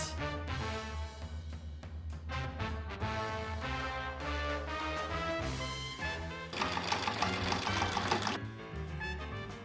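A sewing machine runs in bursts of rapid mechanical stitching, starting and stopping, with a busier stretch of clatter near the end; music plays underneath.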